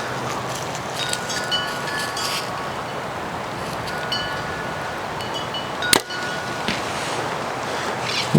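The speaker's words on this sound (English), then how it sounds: "The wind is just crazy." Strong wind buffets the microphone outdoors at an archery range, a steady broadband roar with gusts throughout, briefly broken by a sharp clack near the end.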